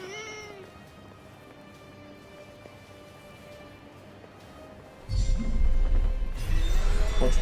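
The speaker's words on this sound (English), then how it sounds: "A cat." A cat in the video game Forspoken meows once at the start, followed by a long sustained tonal hum; midway a loud rumbling burst and crashing noise take over, with no talk.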